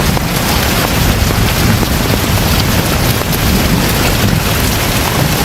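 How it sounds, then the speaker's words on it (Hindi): A heavy rain pours down in a steady, loud, unbroken hiss, with a dense roar filling the whole stretch and no voices or other distinct sounds rising above it. "बारिश हो रही है"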